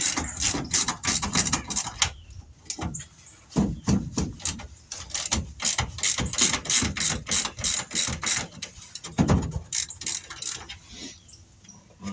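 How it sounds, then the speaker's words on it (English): An impact wrench working on the nuts of a 1957 Chevy wagon, in repeated short rattling bursts with brief pauses between them, close and moderately loud. "Impact wrench."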